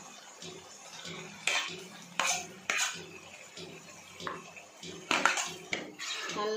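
Goat liver stirred with salt and softened tomatoes in a pan outdoors in a village, irregular metal spoon scrapes and clanks against the pan, with a voice talking in the background.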